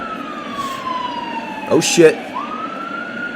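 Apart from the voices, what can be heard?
police car sirens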